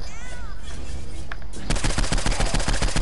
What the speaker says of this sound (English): I'm gonna use SMG.